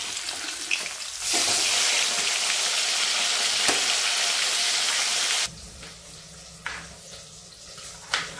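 Fish sizzling loudly in hot oil in a village kitchen during preparation of a golden fish and potato curry, a steady dense frying hiss that drops abruptly to a quieter crackle partway through, with a few light clinks.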